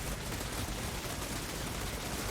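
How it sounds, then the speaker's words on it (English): Dense, continuous volleys of gunfire and cannon booms crackle in a Warhammer 2 battle, loud and unbroken, with no speech. "Fire the cannons!"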